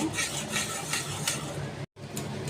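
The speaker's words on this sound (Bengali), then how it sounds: "কাজু বাদামের পেস্ট ভালো করে কষিয়ে নেব" Cashew nut paste fries in a pan for a fish korma, with a spatula scraping and stirring continuously, close and busy, broken by one brief silent gap.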